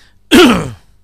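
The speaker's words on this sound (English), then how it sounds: "Gonna cough, sorry." A single short, loud throat-clearing cough from a nearby man, heard alone against near silence.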